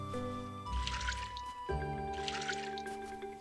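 Soft watery splashes and drips mark flowers being watered in the video game Littlewood, two short bursts set over a steady, faint background music tone.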